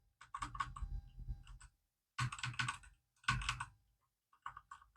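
A mechanical keyboard with red switches clatters in short bursts of rapid keystrokes, separated by brief pauses, close and moderately quiet, on a budget PC build setup with no speech heard.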